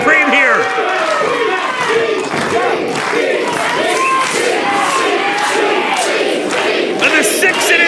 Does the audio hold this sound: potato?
no